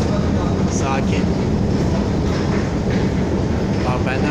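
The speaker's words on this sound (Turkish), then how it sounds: "Pazarbaşı metro istasyonu." A metro train at Pazarbaşı metro station, a loud continuous rumble and roar of the cars rolling through, with faint rhythmic clatter and brief squeals, a voice audible underneath.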